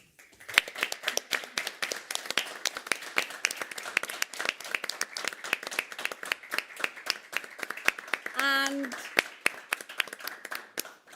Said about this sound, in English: And here we have the second place winners and the first place winners, and a round of applause.